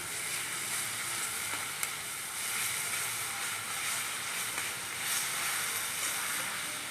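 Ginger, onion and garlic sizzle and fry steadily in oil in a pan over a wood-fired stove, a continuous close hiss with faint stirring and no talking.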